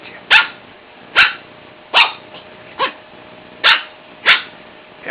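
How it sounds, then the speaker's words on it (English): A hunting dog, a chicken-catching bird dog, barks outdoors in six sharp, loud, close barks spaced roughly a second apart, with no talking between them. "Barked at you."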